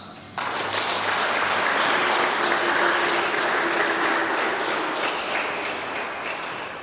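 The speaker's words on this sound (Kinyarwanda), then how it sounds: "Numva twabanza tugaha Imana amashyi" A church congregation breaks into applause, a dense, loud, sustained clapping that starts abruptly and slowly eases off over several seconds.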